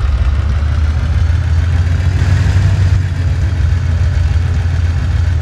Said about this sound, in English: Sounds like the engine is ticking.